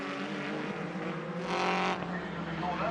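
A BTCC touring race car drives past at Knockhill circuit, a loud sustained engine roar that swells midway as it nears, then eases, with race commentary talking over it.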